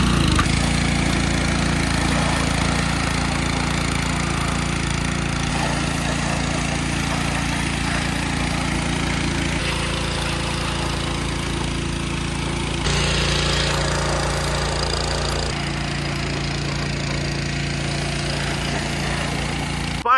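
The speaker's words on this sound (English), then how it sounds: "I finally have the pressure washer back from the shop, back home. Now we're gonna give this thing its first official wash." A pressure washer runs steadily at close range while washing a 12-valve Cummins diesel engine, with a constant hard hiss and pump drone whose tone shifts a few times as the spray moves.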